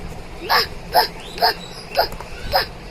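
A child imitates a dog's bark with five short, evenly spaced voiced yaps, close and clear, one roughly every half second.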